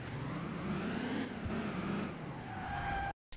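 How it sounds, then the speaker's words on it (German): Two cars drive past in a video game at night, a continuous engine and road drone that swells and fades with a shifting whine, then cuts off abruptly near the end. "Da komme gleich zwei Autos vorbeigefahren"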